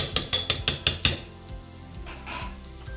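A metal spoon stirs chicken pulao in a cooking pot, knocking out six quick, evenly spaced clinks against the pot's side, followed by softer scraping and shuffling of the rice.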